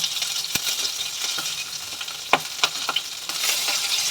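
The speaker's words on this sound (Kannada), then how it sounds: "ಸಾಸಿವೆ ಚಟಪಟ ಅಂತ ಅನ್ನಬೇಕು" Mustard seeds and cumin splutter in hot oil, a steady close sizzle broken by sharp pops and crackles at irregular moments.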